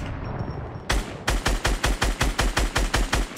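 Rapid automatic gunfire in the battle royale game Fortnite, a loud burst of about a dozen evenly spaced shots after a quieter lead-in, with no talking.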